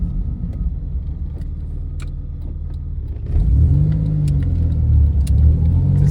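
A Honda Civic EK with a J-series engine swap drives along, the engine droning low and steady, then rising into a louder rumbling acceleration partway through, with light rattles and clicks over the road noise.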